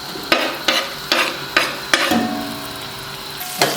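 Onions fry in about a cup of hot oil for chicken biryani, with five quick rhythmic scraping strokes of a spoon over the sizzle before the frying settles into a steadier hiss.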